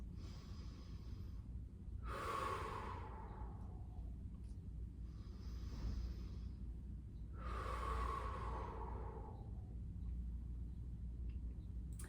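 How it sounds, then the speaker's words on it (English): Two slow, deep breaths are drawn in and let out during a neck stretch, close and audible over a low steady background hum, with long quiet gaps between them. "this is where we'll do some breaths"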